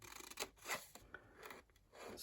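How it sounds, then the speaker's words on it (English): Scissors cut square flaps in a paper gift bag, a few short, close rasping snips spaced irregularly, quiet and alone. "we're going to cut up these little square flaps in the center. So we're going to cut straight along there"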